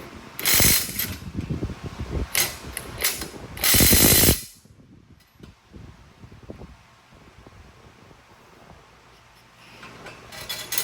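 A ratchet clicks loudly in short bursts while tightening torque tube bolts on a Porsche 928, followed by a long stretch of faint workshop noise.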